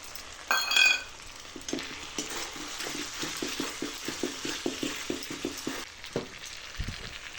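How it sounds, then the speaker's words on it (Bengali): Ginger, garlic and onion frying with tomato and green chili added for a chicken curry: a constant close sizzle under a run of regular, rhythmic spatula scrapes and stirs, ending in a soft thud. "এখানে আদা রসুন আর পেঁয়াজটা ভাজা ভাজা হয়ে এসছে। এরপর আমি এর মধ্যে দিয়ে দেবো টমেটো আর কাঁচা লঙ্কা।"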